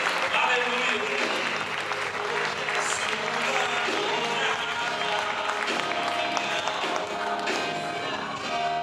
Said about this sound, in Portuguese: mais uma salva de palmas ao Senhor